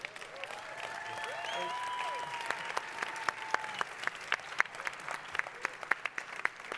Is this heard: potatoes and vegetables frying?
no